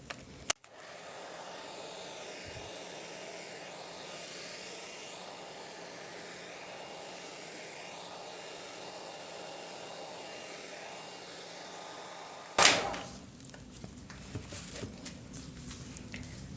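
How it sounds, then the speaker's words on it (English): Hairdryer held too close, blowing steady air across wet acrylic paint over a white layer in a Dutch pour, a continuous close whoosh for about twelve seconds before it cuts off, followed by faint rustles and taps. "Here I was too close with my hairdryer"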